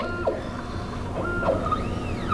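A BioTek ELx405 microplate washer's BioStack stacker whirs and whines mechanically while grabbing the next microplate, with rising and falling motor tones and small clicks, steady and close with no voices.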